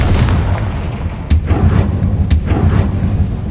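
A Confringo spell explodes in the video game Hogwarts Legacy as two sharp blasts about a second apart, each with a brief rumbling tail, over a steady low background hum.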